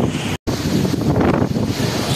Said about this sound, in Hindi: पानी किस तरह से विंड के सहारे यहाँ से वहाँ जा रहे हैं।